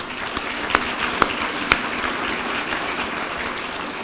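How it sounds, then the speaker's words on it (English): Audience at the Mindful Money Awards 2022 gives a steady, full round of applause for the event sponsors, a dense wash of clapping with a few sharper claps standing out and no talk. "So please give them a round of applause as well."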